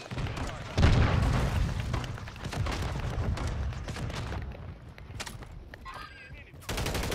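A grenade launcher goes off in Call of Duty amid sustained gunfire. Heavy booming blasts run through a dense, loud barrage that continues for several seconds.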